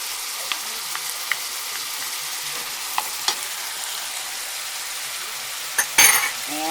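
Garlic added to vegetables frying in a soup pot gives a steady close sizzle, with scattered utensil scrapes and light clinks and a louder clatter of pot and spoon near the end.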